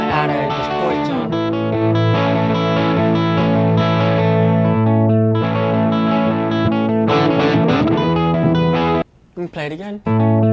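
Electric guitar with heavy distortion, sustained chords and soloing lines ringing loud and thick, then cutting off into brief broken notes near the end.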